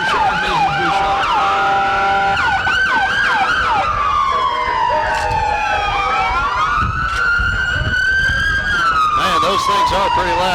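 Sheriff and police vehicle sirens wail loudly during a small-town parade, several overlapping sweeping tones rising and falling close by, with horn-like bursts and crowd noise beneath.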